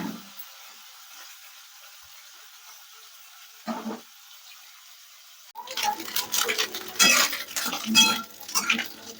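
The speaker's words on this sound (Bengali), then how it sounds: "এবার মাছগুলোকে ভেজে নেব।" Fish dropped into hot mustard oil in a pan, quiet at first with a brief clink, then a loud crackling, spattering sizzle that continues for several seconds.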